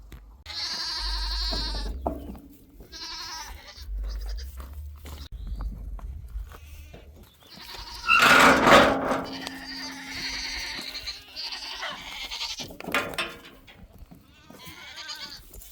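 Several goats being loaded into a trailer bleat loudly and repeatedly, close by, with overlapping wavering cries and some shuffling movement in between.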